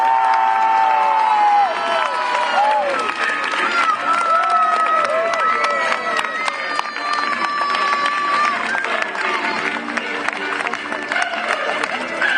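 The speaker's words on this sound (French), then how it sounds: "Bon peuple, acclamez votre champion!" A crowd at a medieval show in Andilly cheers and acclaims a champion, a dense, continuous wash of shouts, whoops and voices with rising calls, loud and sustained throughout.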